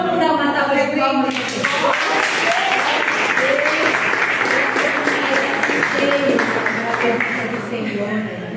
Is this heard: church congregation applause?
yes